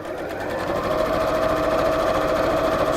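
A sewing machine stitches a seam continuously, its motor whirring and needle chattering at a steady, close, fairly loud level with no pauses and no talking.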